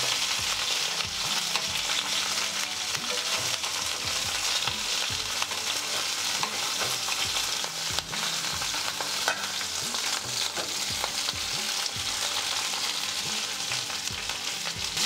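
Stuffed green chillies stir-fried in oil in a pan, a loud continuous sizzle and crackle with rhythmic stirring and scraping throughout, close up with no talking.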